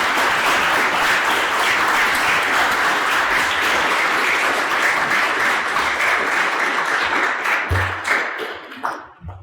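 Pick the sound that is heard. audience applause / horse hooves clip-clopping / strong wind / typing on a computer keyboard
audience applause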